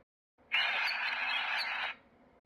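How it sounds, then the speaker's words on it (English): A marsh harrier lets out a single harsh, rasping call lasting over a second, fairly close and alone against a quiet background. "Marsh harrier."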